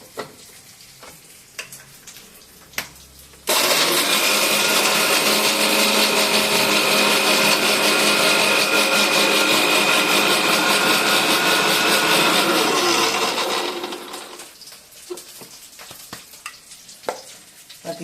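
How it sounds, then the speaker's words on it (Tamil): A mixer grinder whirs loudly and steadily for about ten seconds, grinding dried red chillies, garlic, ginger, coriander seeds, fennel and cumin, then winds down, with faint clicks before and after. "காஞ்சி மிளகாய் பூண்டு இஞ்சி தனியா சோம்பு கொஞ்சம் சீரகம் அவ்வளோதான் இது இப்போது மிக்சி போட்டுக்கிறோம்"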